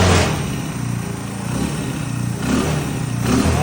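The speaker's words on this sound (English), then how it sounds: "Parker, go stab the throttle." A Honda three-wheeler's engine revs up sharply as the throttle is stabbed, then settles back, loud and close with a steady rough drone and a couple of renewed surges, no talking.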